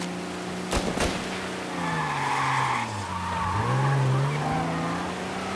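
Car skidding into a wreck in the Mafia Definitive Edition video game: a sharp crash transient near the start, followed by a long tire squeal whose pitch bends and wavers over a steady engine drone, close and loud, with no talk.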